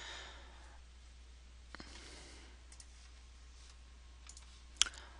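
Computer mouse clicks sound at a desk while a database query is set up, a few faint sparse clicks and one sharper, closer click near the end against a quiet hum, with no talking.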